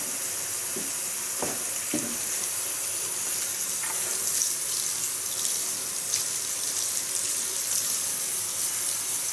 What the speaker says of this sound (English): Bring some water on the collar and on the hairs.